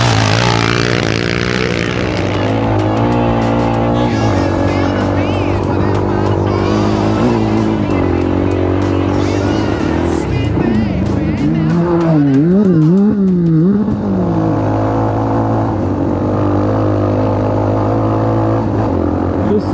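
A 1980 Honda 125 XLS motorcycle racing the Baja 1000 revs hard through sand, its single-cylinder engine droning loudly and close, climbing and wavering in pitch mid-way before settling back to a steady roar.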